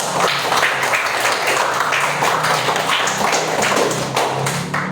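A classroom of pupils applauds together in a dense, steady wash of claps lasting several seconds, loud and close, with no pause or talking over it.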